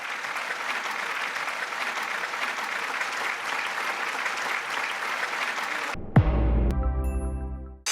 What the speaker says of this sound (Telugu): రవి గారికి మరొకసారి గట్టిగా చప్పట్లు